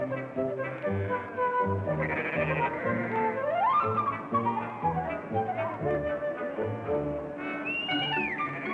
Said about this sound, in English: Arthur raises merino sheep.